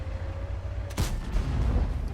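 A single tank cannon shot in the World of Tanks video game, with a low engine drone before it, then a sudden loud blast about a second in, trailing into a rumbling roar.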